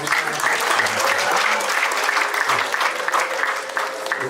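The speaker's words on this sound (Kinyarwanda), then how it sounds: "nibaguha amashyi" Guests clap steadily at a Rwandan wedding gusaba and dowry ceremony, a dense sustained round of applause that fills the whole stretch.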